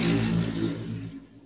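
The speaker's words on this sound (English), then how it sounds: "I'm in glee over hearing the sounds of motorcycles and people outside" Motorcycles pass by outdoors, a loud revving engine roar up close that gradually fades away over a second and a half.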